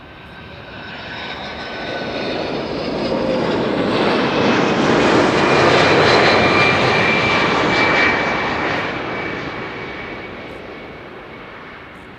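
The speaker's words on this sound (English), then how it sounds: "That was the first 767 of the show, United Airlines flight 946, arrived from Washington." A United Airlines Boeing 767, arriving from Washington, passes overhead while landing at Schiphol. Its jet engine roar swells to a loud peak midway, then slowly recedes.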